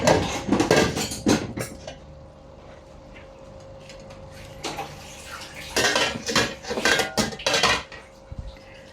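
Metal pot lid set onto a pan of pansit habhab on the stove, a cluster of sharp clanks and clatters at the start and again near the end, with quieter kitchen rattling and a faint hum between.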